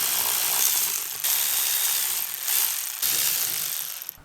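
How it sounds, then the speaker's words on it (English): A hand ratchet clicks in quick bursts while loosening the diverter valve on an Audi S3 during a big turbo install, several close, crisp runs of ratcheting separated by brief pauses. "And let's finish taking off this diverter valve."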